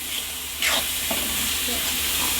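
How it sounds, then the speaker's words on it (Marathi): Pav bhaji masala, three spoonfuls, frying in a pan with steady sizzling hiss that swells sharply partway through, with faint stirring scrapes over a low background hum. "पावभाजी मसाला मी 3 चमच टाकते. व्यवस्थित फ्राय करून घ्यायचं आहे."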